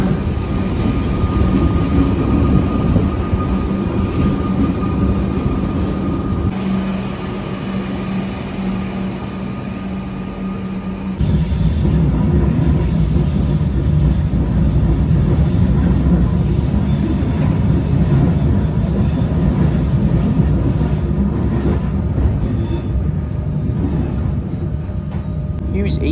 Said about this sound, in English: This train will be stopping at all stations to Newport.